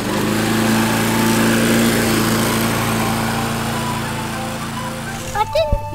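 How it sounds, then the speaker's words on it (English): A toy push lawnmower's small motor whirs steadily and fairly loud for several seconds, fading slightly, followed by a few short clicking mechanical sounds near the end. "Check out this push lawnmower."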